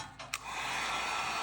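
A heat gun blows with a steady, close airy roar, starting after a couple of brief clicks and heating heat-shrink tubing on a battery cable.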